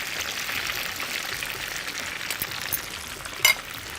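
Food frying in a pan, an even soft sizzling hiss throughout, with a couple of brief sharp clicks near the end and no talk.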